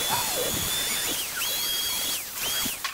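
A power drill bores a hole in a new motorcycle handlebar, its high motor whine rising and falling in pitch as the bit works the metal, close and steady throughout.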